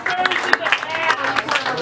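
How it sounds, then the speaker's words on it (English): Audience applause at a live comedy show in a theater, a brief burst of dense clapping from the crowd with a few cheers mixed in, moderately loud and continuous throughout. "Give yourselves a round of applause."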